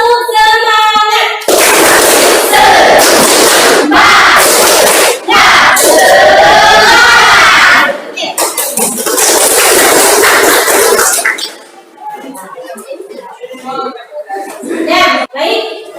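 A class of children clapping a rhythmic cheer in an Indonesian classroom, loud and energetic with overlapping young voices, fading into quieter chatter near the end.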